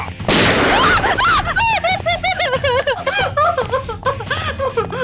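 Gunshot on a Hindi crime drama set: a sharp loud blast near the start, followed by chirping bird-like calls and layered background sound.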